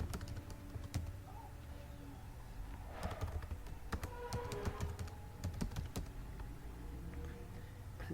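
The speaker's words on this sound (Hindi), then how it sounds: "अब इस पे जो रजिस्टर्ड ईमेल होगी वो टाइप करेंगे।" Keys clatter on a computer keyboard as an email address is entered, a quiet irregular series of close clicks and taps spread across several seconds.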